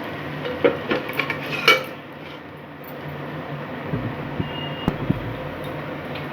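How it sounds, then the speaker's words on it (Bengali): Bottle gourd curry with lentil dumplings is stirred and the pot covered, giving a few clinking metal pot-and-spoon knocks early on, then a quieter stretch of low simmering with a couple of faint clicks, no voices. "নাড়াচাড়া করে আমি আবারও একটু ঢেকে দিচ্ছি"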